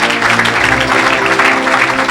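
A church congregation bursts into loud, steady applause at a French-language worship service, with music and voices blending underneath the clapping.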